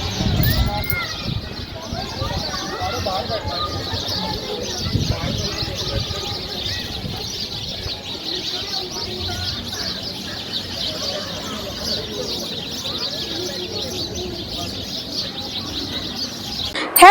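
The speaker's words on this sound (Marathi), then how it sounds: "पक्ष्यांचा किलबिलाट आहे ना तोही एवढा शांत" Birds chirp and coo steadily in the background in Pandharpur while a person talks over them throughout.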